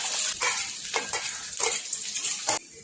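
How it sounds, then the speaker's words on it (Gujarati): Asafoetida and finely chopped onion sizzle in hot oil in a pan, a steady loud hiss broken by regular stirring scrapes about every half second. "अहींया तेल गरम थई गयुं छे। हवे थोड़ी हींग एड करीशुं अने डુંગળી जीनी समारेली डુંગળી एड करीशुं आपणे।"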